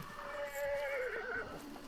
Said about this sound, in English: Oh, that's the horses from the extraction point.